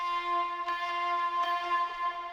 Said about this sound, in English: I found this vocal sample on Splice